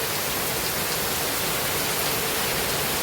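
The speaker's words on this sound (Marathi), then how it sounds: "पाऊस बघा कसला पडतोय घमासान, एकदम धुवाधार असा पाऊस" Heavy rain pouring down steadily, a dense, unbroken roar of water filling the whole moment, loud and close.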